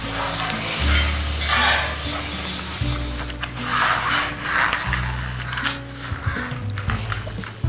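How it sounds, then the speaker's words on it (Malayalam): Green gram curry being stirred in a pot, with repeated scraping and rubbing strokes over a steady low kitchen hum and light sizzling, close and fairly loud. "ഇത് നന്നായിട്ടൊന്ന് നമുക്ക് ഇളക്കി കൊടുക്കണം."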